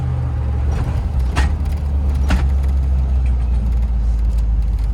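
1989 Range Rover Classic driving, a steady low engine rumble from inside the vehicle with a couple of brief rattles, loud and continuous.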